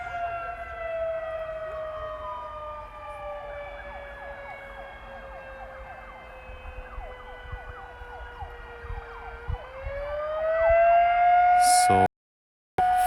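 Civil defense sirens being tested in Wieluń, Poland, wail steadily in a long outdoor tone that slowly sags and then climbs again, with several sirens overlapping and faint background noise.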